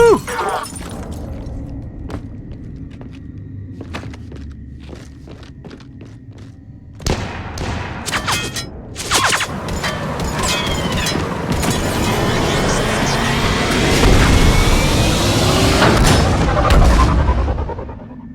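Gunfire in the Mass Effect 3 video game: sparse sharp shots at first, then a dense, loud barrage of cracks and impacts with mechanical clatter building to a sustained roar, with voices talking at times.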